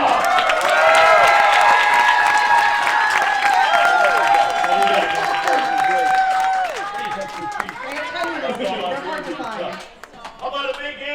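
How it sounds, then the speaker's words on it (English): An audience applauds and cheers a house band at a live comedy show, loud clapping and whooping under prominent singing and tonal voices, the crowd noise gradually thinning toward the end. "Let's give some applause for our house band."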